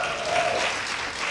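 An audience at a vegan hall of fame ceremony gives brief, loud applause that holds steady throughout.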